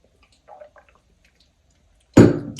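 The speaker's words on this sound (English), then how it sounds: "Let me just get some water real quick" Water is poured into a glass: soft faint clinks and handling at first, then a sudden close burst of pouring liquid near the end, with no talking.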